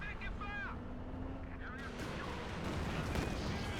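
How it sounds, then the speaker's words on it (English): Howitzer artillery fire from Company of Heroes 2 booms and rumbles in a dense, continuous battlefield din that grows slightly louder toward the end, with voices and scattered in-game calls over it. "And the artillery wars have begun."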